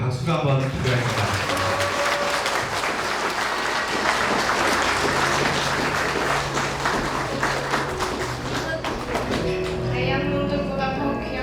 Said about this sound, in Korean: 여러분 격려의 박수가 한번 필요합니다.